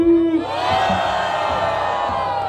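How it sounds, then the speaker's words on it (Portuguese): A crowd at a rap battle in Grajaú roars, cheering, whooping and shouting together in a loud, sustained burst. "Barulho para as rimas do Capezito."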